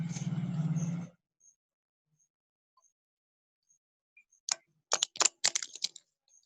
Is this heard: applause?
no